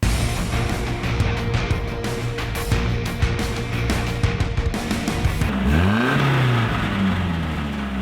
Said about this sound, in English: this is our 1987 hardbody Nissan